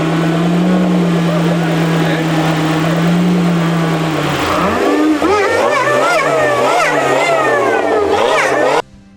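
A loud supercharged 1.6 rally car engine holds a steady drone, then revs repeatedly in rising and falling surges, close and dominant throughout.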